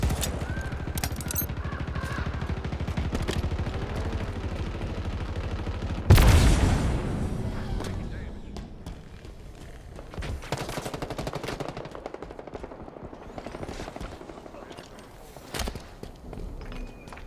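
Rapid bursts of automatic and single-shot gunfire rattle through a Halo Infinite online match, with a heavy blast near the six-second mark, footsteps and a faint in-game voice amid the steady combat din.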